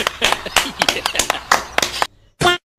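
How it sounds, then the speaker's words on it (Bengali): Several people clap at a shraddha (funeral rite) gathering at home, sharp bursts of applause close by and mixed in with loud talking, ending in one short final clap after a brief pause. "এই তালিয়া বাজাও রে ভাই, তালিয়া বাজাও"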